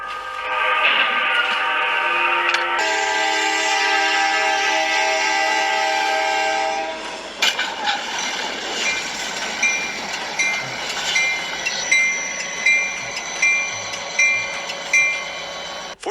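A train sounds a long, loud horn as it approaches a collision at a crossing in Elgin, Texas, then rolls past with rhythmic clattering wheel clicks that repeat steadily.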